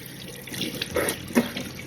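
A household water tap runs briefly into a sink, a soft close splashing stream with a couple of slightly louder gushes, lasting under two seconds.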